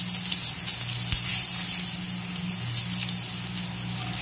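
Onions frying in oil for a savoury ragi puttu, a dense, steady crackling sizzle heard up close with a low hum underneath, easing slightly toward the end.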